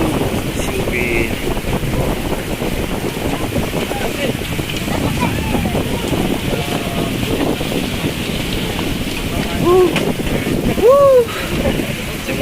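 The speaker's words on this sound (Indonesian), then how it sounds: "Angin utara tiba-tiba datang melanda." A strong north wind blasts across a fishermen's shelter on the coast during high waves, roaring and buffeting the microphone continuously, with brief faint whistling tones near the end.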